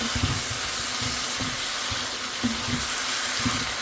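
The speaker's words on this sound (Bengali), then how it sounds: "পানি ছাড়া একদম মুরগিটাকে ভালো করে কষিয়ে নিয়েছি" Spicy chicken pieces are stir-fried dry over medium heat, a continuous soft sizzle broken by repeated clinks and scrapes of a spatula against the pan.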